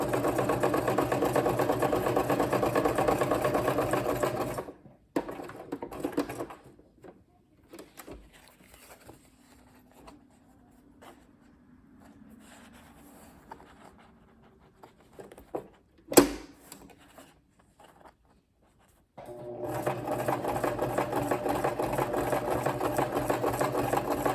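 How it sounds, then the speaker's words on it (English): A sewing machine runs a straight stitch on fabric, a steady close motor whir for about five seconds, then quiet handling sounds and a sharp knock, before the machine hums along again. "I'm just going to put in a couple stitches, back stitch, and then go right down."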